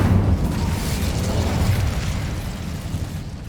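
An Incendio fire spell is cast in Hogwarts Legacy: a loud, roaring burst of flame that rumbles low and steady for several seconds, then tapers slightly, with no talking.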